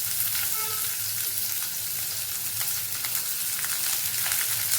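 Small shallots sizzle loudly and steadily in a hot pan, a dense crackling fry that carries all the way through.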